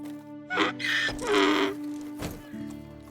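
In the video game Medieval Dynasty, a donkey brays in a harsh, wavering call that lasts about a second, nearby, followed by a softer grunt, with no speech.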